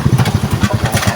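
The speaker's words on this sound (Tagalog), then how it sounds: "Magaling to mga motor na to." Motorcycle engines idling near a waterfall, a steady close chugging pulse with a quick, even rhythm throughout.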